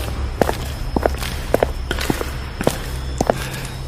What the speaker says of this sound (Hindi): तभी अचानक उसे अंधेरे में किसी के जूतों की चरमराहट सुनाई दी, जैसे कोई उसकी ओर बढ़ रहा हो।